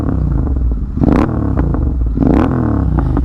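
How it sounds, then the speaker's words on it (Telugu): A Royal Enfield Interceptor 650 fitted with a Red Rooster exhaust, revved in two sharp bursts that rise and fall over a loud, rumbling idle with crackling pops, heard up close. "సో ఎగ్జాస్ట్ అయితే ఒకసారి వినండి"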